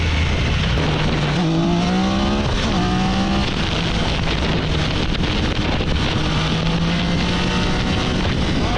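A Triumph Daytona 660 motorcycle engine revs loudly and close, its pitch climbing through gear changes over heavy wind rush while riding.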